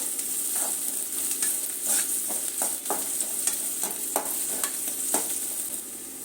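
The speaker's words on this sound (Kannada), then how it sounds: "ಈರುಳ್ಳಿ ಚೆನ್ನಾಗಿ ಫ್ರೈ ಆಗಿದೆ" Chopped onion, one large one, frying in a pan for a curry, a steady close hiss of sizzling oil broken by repeated short scrapes and stirs of a spoon.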